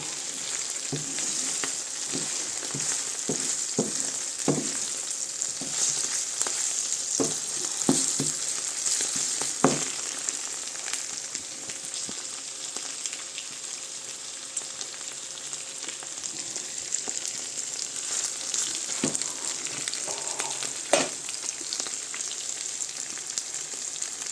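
Chicken gizzards fry in a pan, a continuous loud sizzle with scattered sharp pops and crackles and occasional stirring, steady throughout without speech.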